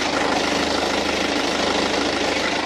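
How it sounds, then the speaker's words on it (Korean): A BMW car's diesel engine idles close by under an open hood with a steady, rough, low clatter and rhythmic throb, continuous and fairly loud. "영상으로 엔진 소음 한번 담아보도록 하겠습니다"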